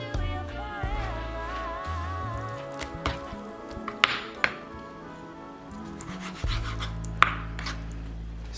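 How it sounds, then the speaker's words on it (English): A knife trims excess fat from chicken on a cutting surface, making soft rubbing and scraping strokes with a few sharp taps, close and quiet over a faint background hum. "Probably going to trim the excess fat."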